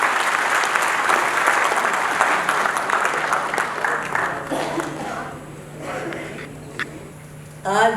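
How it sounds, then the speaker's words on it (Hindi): A seminar audience at Jawahar Bhawan breaks into loud, dense applause that holds for several seconds, then tapers off into scattered claps and a murmuring crowd. "मैं चाहता हूं एक बार जोरदार ताली बजा करके मोहसिना जी के लिए आप।"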